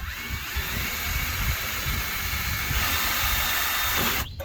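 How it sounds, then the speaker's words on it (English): A steady, close drill whine from a small drill bit boring a hole during a Husqvarna tractor repair runs almost the entire time with a hissy, grinding edge, then cuts off abruptly near the end. "Let's see if I can drill in that same spot."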